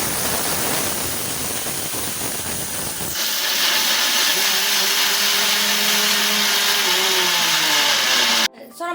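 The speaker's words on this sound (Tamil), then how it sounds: "வாங்க இப்போ நம்ம கிரைண்ட் பண்ணி பார்த்துடலாம்." An Atomberg Zenova mixer grinder running, a steady loud whirring hiss that shifts in tone partway through and cuts off near the end, with no talking.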